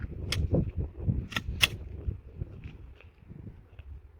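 Glock 17 pistol shots fired through an Annphia suppressor at an outdoor range, three sharp muffled cracks spaced about a second apart over low rumbling background noise, followed by faint distant ticks.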